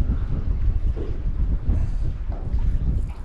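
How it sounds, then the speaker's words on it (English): Strong wind buffeting a small boat out squid fishing in Cockburn Sound, a steady low roar of gusts and microphone rumble with no voices. "This bloody wind's come in."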